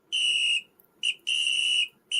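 Sharp high-pitched whistle blasts, two long shrill blows each followed by a short clipped toot, loud and close with silence between them and no talking.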